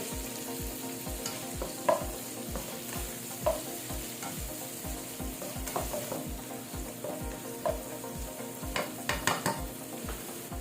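Garlic and onion sautéing in a pan for chicken liver and gizzard, a soft steady sizzle with regular scraping stir strokes and occasional sharper clinks, no talking.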